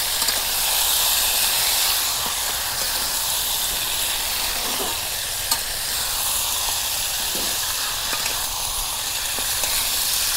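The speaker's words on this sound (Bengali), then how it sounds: "এই যে মাংস যে আমি কড়াইতে চড়াই দিলাম" Spiced meat sizzles in a hot wok (kadai), a bright, continuous frying hiss heard up close with occasional stirring scrapes and faint pops, and no voices.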